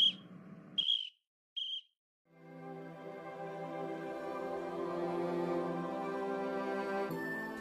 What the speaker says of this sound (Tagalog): Oo nga, tunog ng pito.